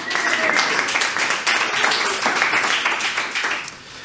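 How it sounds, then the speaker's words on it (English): Studio audience applause on a quiz show, loud sustained clapping from a crowd lasting several seconds before tapering off. "Big round of applause."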